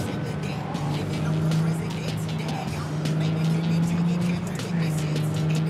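A car driven in Cyberpunk 2077 hums with a steady engine drone that rises and shifts, plus tire noise and busy game sounds, continuous and fairly loud throughout, with talk mixed in.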